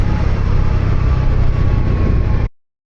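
A 2024 Bajaj Pulsar NS400Z motorcycle engine drones steadily, caught by a microphone inside the rider's helmet, a loud low rumble with wind-like buffeting that stops abruptly before the end.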